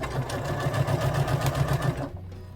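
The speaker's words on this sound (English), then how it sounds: "Sewing down the side." Rapid, evenly pulsed stitching from a sewing machine running down the side seam of a pair of bear overalls. It is close and steady for two seconds, then stops with a short low hum.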